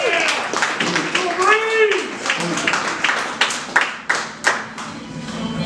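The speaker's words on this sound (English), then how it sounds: "Applause for Cool Breeze." A small group claps for a guest on a home brewing show, sparse hand claps that grow sharper and louder toward the end, mixed with a voice talking over the start.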